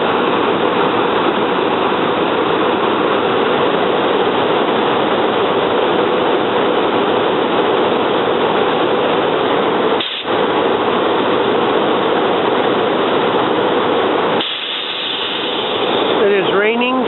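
Inside a five-car commuter train on a rainy day, a steady broadband rumble and rush of the rolling car fills the whole stretch, with a brief dip near the middle and a change in character toward the end.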